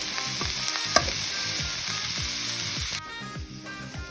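Ingredients for a creamy white kurma sautéing in a pan: a constant loud sizzle with repeated spoon scrapes and taps in an irregular rhythm, close by, easing slightly quieter near the end, no voices.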